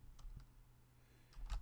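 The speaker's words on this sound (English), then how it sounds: "typing in the path of the exploit" Soft, quiet keystrokes tapping on a computer keyboard, a few scattered clicks followed by a quicker cluster near the end.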